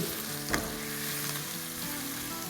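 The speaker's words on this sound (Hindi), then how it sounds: "ये देखें हल्की हल्की कैसे मिर्चें सॉटे हो रही है, डार्क हो रही है" Green chillies sautéing in oil in a home kitchen pan, a steady close sizzle and crackle with one brief louder pop or stir near the start, no talking.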